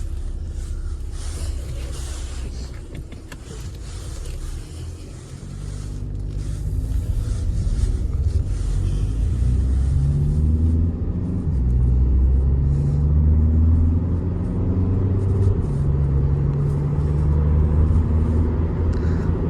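A 2016 Skoda Superb 2.0 TDI diesel with DSG gearbox rumbles steadily while driving, the low drone swelling slightly as it picks up speed, with no talking.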